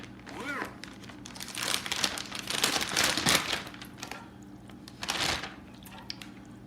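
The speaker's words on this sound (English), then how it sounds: "I'm gonna go ahead and add them to a Ziploc bag." Raw rinsed shrimp going into a Ziploc plastic bag, heard as close, loud crinkling and rustling of the plastic in several bursts with brief movement between them.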